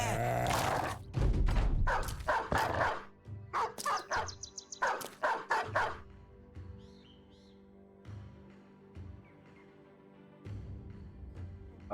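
Dogs in the Battle Brothers video game growl, bark and yip while eating, in loud bursts early on that fade into quieter game ambience and music.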